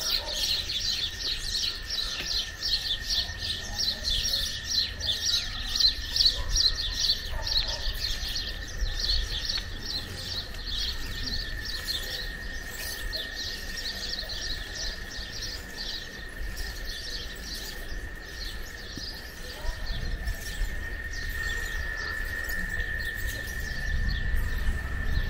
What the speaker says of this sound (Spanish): Me voy a callar para que escuchen el ambiente de los pájaros.